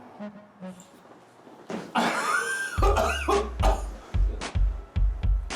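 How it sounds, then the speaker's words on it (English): A series of harsh, forceful coughs, several in a row with short gaps, loud and close after a quieter start. "What's up with the coughing? Coughing is just part of the reflex."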